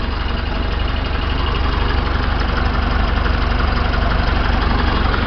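A John Deere 2030 tractor engine idles at low throttle, a loud, steady diesel chug with even pulsing throughout and no voices.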